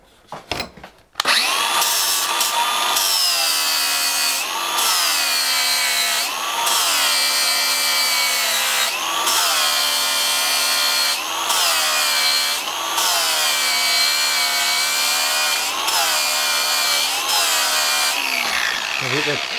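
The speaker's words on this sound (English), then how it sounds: "I'll take that bit of weld off with the grinder and then we can proceed to machine it" An angle grinder removes a bead of weld from a cast iron hydraulic pump mounting lug held in a milling machine: a loud, continuous high-pitched grind that starts abruptly and holds steady, with slight periodic dips as the disc bites and eases.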